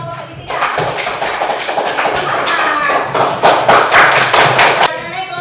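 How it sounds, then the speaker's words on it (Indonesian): A classroom group applauds together after a maths presentation, a dense burst of many hands clapping that builds and continues steadily for several seconds before cutting off, with voices faintly mixed in. "Berikan dulu tepuk tangan untuk kelompok segitiga."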